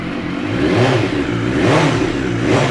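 A 2016 BMW S1000R sport motorcycle engine fires up and revs, a loud, close, continuous roar rising and falling in several blips with no talking.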